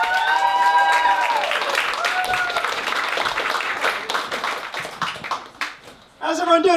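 Audience at a stand-up comedy show applauding the comedian Chris Wright, a dense, steady wash of clapping that tapers off near the end, with a voice speaking over it at the start.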